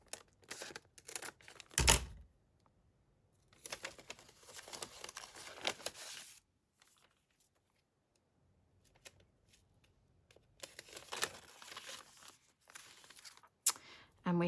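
Craft material for creative journaling being trimmed, heard as soft, close rustling and crinkling in bursts with a sharp snip, separated by quiet pauses.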